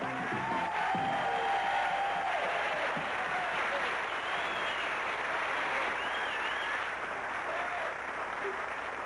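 Television game show studio audience bursting into sustained applause and cheering for the arriving host, a dense continuous roar of clapping with whoops and whistles, loud and steady throughout.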